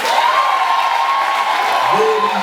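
A school audience at a Form 4 retreat breaks into dense, steady applause mixed with crowd cheering, sustained across the whole moment with a faint voice-like tone toward the end.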